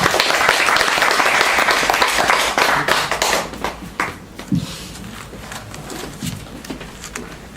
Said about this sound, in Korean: 우리 같이 박수로 환영하겠습니다